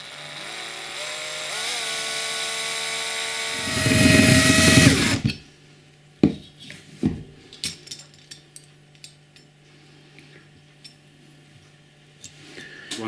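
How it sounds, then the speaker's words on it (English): A small drill bores out a rivet on a Dinky Toys MG Midget diecast model, a loud, steady whine building for a few seconds before cutting off, followed by scattered clicks and taps of handling. "I do this in 2 stages with a small drill to begin with"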